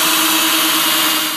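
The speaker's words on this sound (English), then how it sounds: "I'm just going to drill a nice hole here with my drill" An electric drill whirs steadily up close, drilling an 1/8-inch hole through a rivet on a lamp, one continuous loud motor whine that winds down at the very end.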